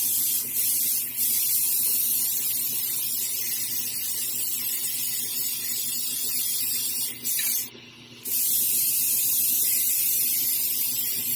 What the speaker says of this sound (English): I'm opening the airbrush pretty wide and just fanning this on